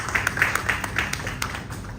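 An audience at a business summit and awards press meeting gives a round of applause: a thin patter of scattered hand claps, moderately distant and fairly sparse, with no voices over it.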